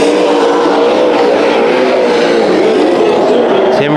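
Street stock race cars roar around the oval at Bakersfield Speedway during a heat race, a loud, continuous engine drone with shifting pitch as cars pass close.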